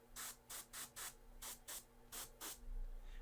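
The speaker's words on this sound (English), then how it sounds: "Now I always put a light spray over the top" Light coat of spray paint applied in short controlled bursts, about nine crisp hissing spurts in an uneven rhythm, close and fairly soft with brief gaps between them.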